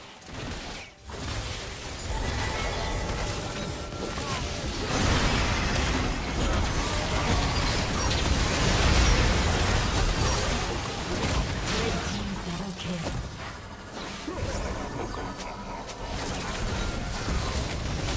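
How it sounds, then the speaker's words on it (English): A turret being destroyed in a League of Legends match between Aurelion Sol and Azir in the mid lane, with crashing, bursting impacts heard within a dense, continuous wash of game sound effects and clashing abilities. "Blue team's turret has been destroyed."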